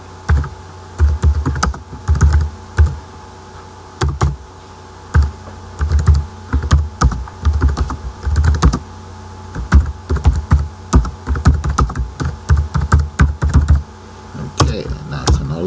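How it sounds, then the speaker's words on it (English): Fast, loud typing on a computer keyboard close by, with irregular bursts of clacking keystrokes and thumps and brief pauses between words, no speech. "Or I can type into it directly."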